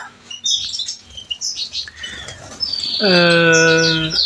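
Pastel, opal, yellow Isabelle and satinet canaries in a breeding room: brief soft wing flutters early, then a loud, clear chirping call close by.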